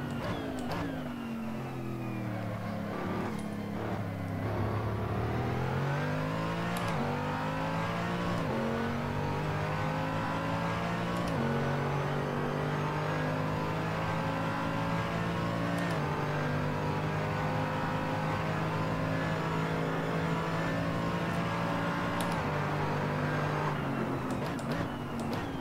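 A race car engine in the Assetto Corsa racing game hums and climbs through gears in steady rising sweeps, loud and continuous throughout, with no talk over it.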